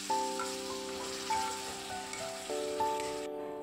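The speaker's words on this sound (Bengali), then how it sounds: "দিয়ে ভালো করে মশলাটা কষিয়ে নেব।" Spice paste of ginger, chilli, cumin and coriander frying in oil, a soft continuous sizzle close by, faint and steady, with a sustained tonal hum running underneath and no voices.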